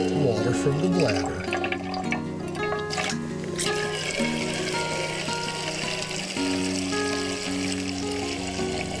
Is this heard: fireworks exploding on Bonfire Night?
no